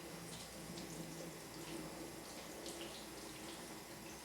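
Rinse water slowly flowing and pooling before running off a car's panels in sheets, a steady, moderate trickling and splashing hiss with no talking.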